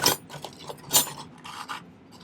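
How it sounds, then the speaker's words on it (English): A metal file rasps against small earring bezel parts in a few short, separate strokes, close and fairly quiet, with no talking. "And I'll probably file these down just a skosh."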